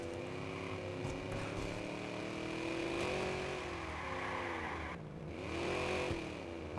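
A car engine driving in the video game Watch Dogs, a sustained humming drone that rises and falls with acceleration and gear changes, steady and alone.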